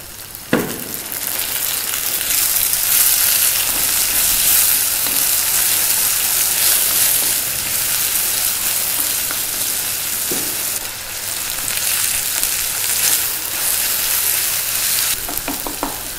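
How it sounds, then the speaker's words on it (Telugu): Onions and tomatoes frying together in a pan for a cauliflower and egg curry, a loud, dense, continuous sizzle close by, broken by a few clattering stirs at the start and end, with no talking. "ఇప్పుడు దీన్ని బాగా ఫ్రై అవనిద్దాం"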